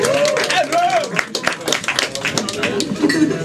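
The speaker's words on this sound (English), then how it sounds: "Give a round of applause for Andrew as well." A comedy club audience in Gzira, Malta applauds: a few seconds of mixed clapping from a small crowd, with a voice talking through it.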